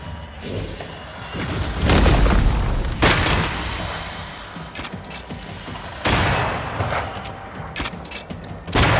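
A grenade explodes in the Banishers: Ghosts of New Eden video game: heavy, loud booms and rumbling bursts of battle come in waves over constant combat noise, with no talking.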